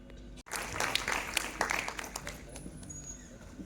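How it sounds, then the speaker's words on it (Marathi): Audience clapping at a rural journalists' association convention and award ceremony, a steady wash of applause lasting several seconds with a brief dip near the start, fairly loud and broad, with some voices mixed in. "जोरदार टाळ्या वाजवेल पुन्हा एकदा।"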